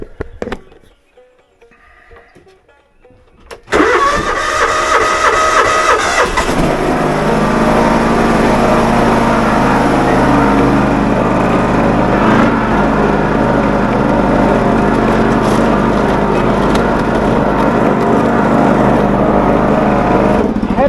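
A lawn tractor's small engine cranks and catches after a few quiet seconds, then runs loud and steady with a constant buzzing drone up close, ready for mowing grass.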